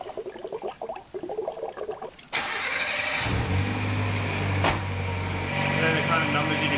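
Car engine fitted with a high flow turbo cranks and fires, then settles into a steady mid-pitched idle; people talk faintly before the start.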